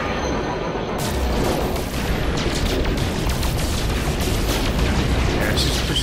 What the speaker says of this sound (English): let's shoot some rocks.